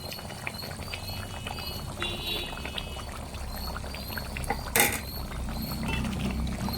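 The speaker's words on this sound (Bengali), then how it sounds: "তো এখন দিয়ে দেবো আমি গরম মশলাটা।" Hilsa fish curry simmers and bubbles in a pan as garam masala goes in, giving a close, steady liquid bubbling with light clinks and one brief sharp clatter near the end.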